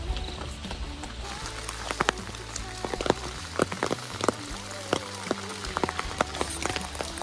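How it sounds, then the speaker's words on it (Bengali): Rain falls in cloud at the Jerong mountain viewpoint near Panbu, with sharp, irregular drops tapping and pattering on nearby surfaces over a soft, steady hiss. "পুরো মেঘের মধ্যে বৃষ্টি হচ্ছে"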